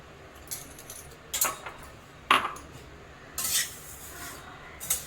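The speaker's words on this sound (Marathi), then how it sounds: "आता आपण त्याच्यामध्ये हे धने टाकूया।" Coriander seeds roasting in a hot thick-bottomed kadhai give a series of dry scraping and rattling bursts as they are stirred, five or six distinct clusters spread irregularly, close and fairly quiet, with no talking.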